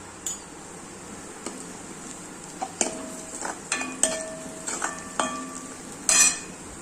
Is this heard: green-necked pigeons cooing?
no